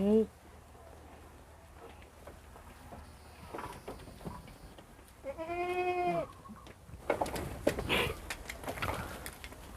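Goats on a farm bleat in several wavering cries, one drawn-out call standing out partway through. Rustling and pattering noises and low talking mix in around them.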